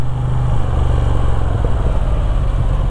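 A Moto Guzzi V7 Sport motorcycle rides along with a steady, loud engine drone and low rumble throughout, close to the microphone with wind noise.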